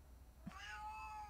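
A cat lets out one clear, fairly close meow that rises and then trails off, alone over a soft steady background hum.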